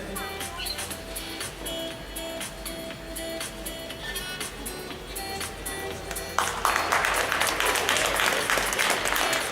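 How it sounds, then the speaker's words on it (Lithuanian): Applause from the audience at a masters prejudging round of a Baltic bodybuilding championship, light at first and then swelling into louder sustained clapping over background music. "Negalėkime plojimo."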